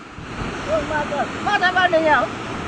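A river reached on a picnic outing rushes steadily as a broad, constant wash of flowing water, with people talking over it.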